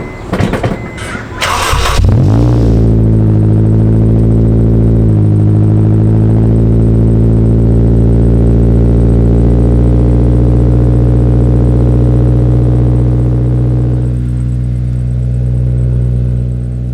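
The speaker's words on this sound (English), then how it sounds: "As you guys can tell, it's not exactly the quietest thing. I need to get the silencer back in this car." A car with a loud aftermarket exhaust and no silencer fires up from a cold start after a brief crank, then settles into a steady, booming, droning idle that stays loud and close for the rest of the clip.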